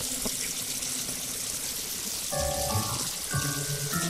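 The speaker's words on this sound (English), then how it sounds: "Let's turn on water tap and turn off water tap." Water running from a bathroom sink tap in an animated short, a soft steady splash that is then cut off, with faint tonal sounds near the end.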